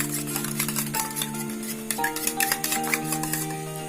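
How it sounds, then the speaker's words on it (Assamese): Eggs beaten with Maggi masala and salt for a Maggi omelette, with a fork clicking against the bowl in fast, even strokes over a steady tonal hum, close and clear. "আৰু ইয়াতে দি দিম অকণমান মেগী মছলা, অকণমান নিমখ দি দিম আৰু ভালকৈ এইখিনি ফেটি ল'ম।"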